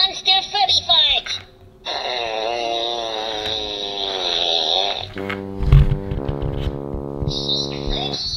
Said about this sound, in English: Furby predict that Unai will laugh at monster Furby fart.